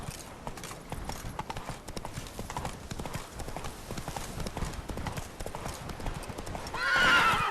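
In The Witcher 3: Blood and Wine, a horse gallops with rapid, rhythmic clip-clop hoofbeats close by, running steadily throughout, and gives a short whinny near the end.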